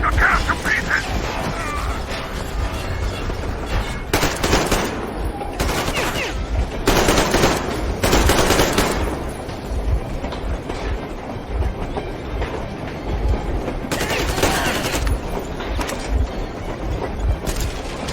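Gunfire rattles through a firefight in Metro Exodus, sustained bursts over a steady rumbling mechanical din, with louder volleys around five, seven to nine and fifteen seconds and no voices.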